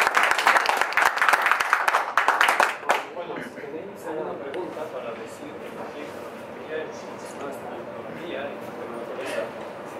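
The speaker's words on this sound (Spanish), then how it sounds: "un aplauso para todos vosotros" Audience applause at the opening of a photography exhibition in Madrid: dense, loud clapping for about three seconds, then fading into crowd chatter and murmuring voices for the rest.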